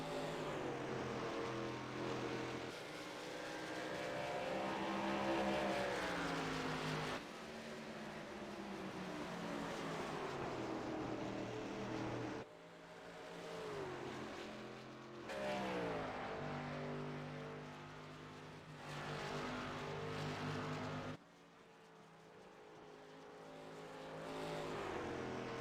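Race truck engines, one a Chevy Silverado, droning and shifting pitch through a sim race at Phoenix, loud steady roar with rising and falling revs as trucks run close together.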